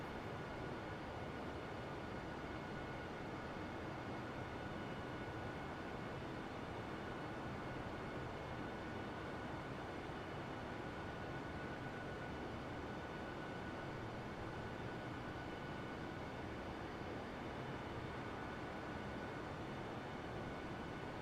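An Airbus A320neo in Microsoft Flight Simulator, heard as a steady, broad engine roar with a faint constant whine, unbroken and even throughout.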